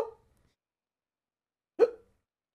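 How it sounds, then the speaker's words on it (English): Two distinct hiccups from a Monty Python film scene, the first at the very start and the second after nearly two seconds of silence, each a short, sharp vocal gulp with no talking. "The hiccups, man."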